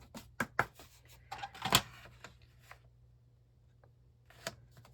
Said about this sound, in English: My cutter did not want to go through two